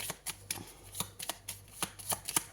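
Tarot cards shuffled and drawn from a deck during a Capricorn horoscope reading, a run of crisp papery flicks and riffles in quick irregular bursts, close and fairly quiet with no voice.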